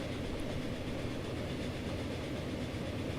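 A train at a depot in Transport Fever rolls past with a steady, even rumble and faint rail clatter that holds level throughout.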